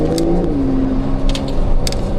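A Porsche 911 Carrera T with a Techart build, engine droning loud and close from inside the car, pitch shifting as revs change, with faint rattles over the rumble.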